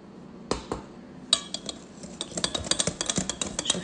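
A parsley mixture is stirred into green cake batter in a bowl; a utensil scrapes and clinks against the bowl, sparse at first, then in quicker repeated strokes, close and fairly quiet.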